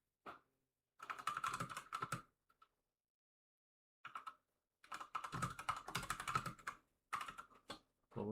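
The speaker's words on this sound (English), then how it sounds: "Typing in Discord my new PBs." Bursts of fast typing on a computer keyboard while entering messages in Discord, close and clear, with quick clicking runs separated by short silent pauses.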